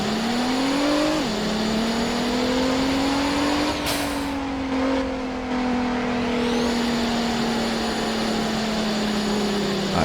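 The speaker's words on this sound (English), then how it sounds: "So I've got kind of a sweet GTR. Let's go for a little ride around town." A GTR sports car in the Roblox game Driving Empire cruising around town, its steady engine drone rising as it accelerates, with a brief gear shift and a sweep of passing noise midway, loud and continuous.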